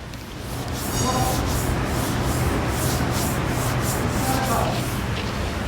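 Steady, close rough rubbing of a hand over rough car paint, a continuous scratchy friction that holds evenly throughout with no voices.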